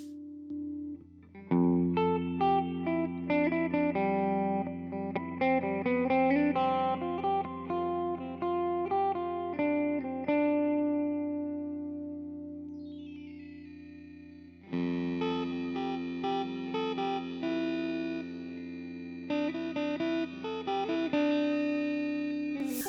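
Electric guitar through a Discomfort Designs You Are The Ultrastar pedal with reverb and clang effects: notes and chords drenched in shimmering reverb and metallic chorus-like effect, sustained ringing tones, a brief fade then the effected playing resumes.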